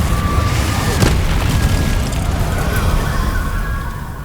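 Confringo spell explosion in a Harry Potter video game, a loud booming blast with a short crack near the start that rolls into a sustained fiery rumble fading slightly at the end.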